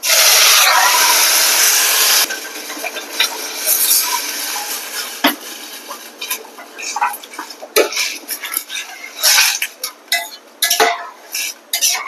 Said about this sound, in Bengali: তো এই তো আমার চালটা ভাজা হয়ে গেছে, এখন আমি গরম পানি দিয়ে দিচ্ছি।